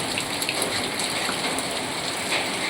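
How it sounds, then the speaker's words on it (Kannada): Steady rain falls on outdoor surfaces in the morning, a soft, even hiss of many drops that holds without pause and with no voices. "ಮಳೆ ಇವತ್ತೇನ್ ಬಿಡಲ್ಲ"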